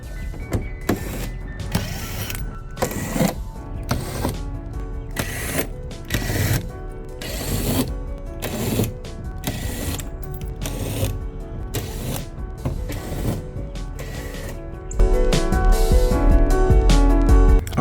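An impact wrench takes transmission bolts off a BMW F10 535i, its repeated short rattling bursts coming close and loud over steady background noise, growing louder near the end.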